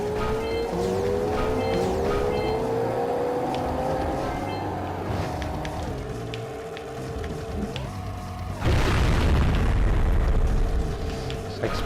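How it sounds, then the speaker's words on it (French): Explosions boom through gameplay in Jak & Daxter: The Precursor Legacy, ending in a loud, dense blast that covers the last few seconds, after a stretch of continuous game sound with shifting tones. "Ça explose."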